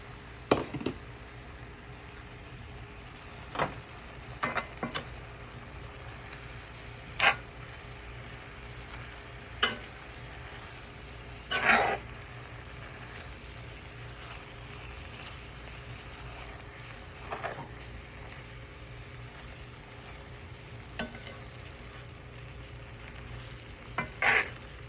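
Shrimp stirred into cabbage in a pan: a quiet, steady sizzle runs throughout, broken every few seconds by sharp clicks and scrapes of a utensil against the pan, with no talking.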